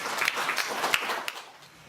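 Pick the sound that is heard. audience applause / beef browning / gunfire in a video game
audience applause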